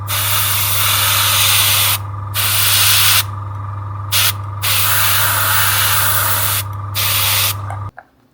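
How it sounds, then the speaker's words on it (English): An airbrush loaded with black paint sprays in long steady hissing bursts with short pauses between them while weathering a model bin, loud and close with a constant low hum underneath, ending abruptly. "So I've got just black in the airbrush, just to dirty up a little bit."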